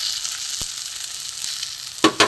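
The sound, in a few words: egg frying with potato roll filling in pan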